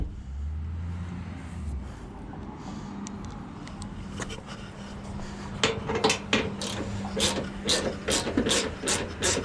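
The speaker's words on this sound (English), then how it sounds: "Got the last bolt tightened on there, that front support." A hand ratchet clicks as it tightens the front support bolt on a crashed 1999 Honda CR-V. Faint mechanical rumble comes first, then quick bursts of sharp, close ratcheting clicks over the last few seconds.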